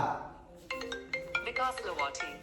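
A mobile phone rings with a bright, repeating melodic ringtone that starts abruptly and keeps cycling close by for a couple of seconds.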